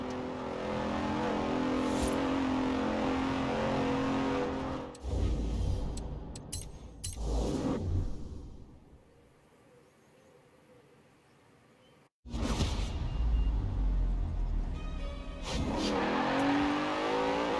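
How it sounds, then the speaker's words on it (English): A Bentley Continental GT grand tourer in Forza Horizon 4 roars through sustained engine revving, loud and close, dropping out to a near-silent lull midway before the engine surges back strongly. "The car was the Continental GT, an elegant grand tourer that combined a racetrack pedigree with exquisite style and all the power you could need."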